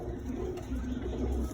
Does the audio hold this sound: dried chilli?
no